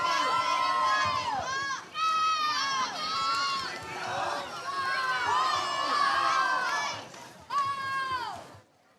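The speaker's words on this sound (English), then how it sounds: "The crowd's very loud and supportive here today." Spectators at a high school swim meet cheer and shout continuously, with high excited voices rising and falling in waves, close and loud, with brief dips between surges.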